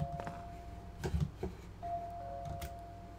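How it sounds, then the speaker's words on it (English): A doorbell rings inside an apartment in the horror video game Ju-On: The Grudge, a faint sustained electronic tone sounding twice amid quiet ambient game noise and soft footsteps. "It really does sound like it's maybe this doorbell that's going off."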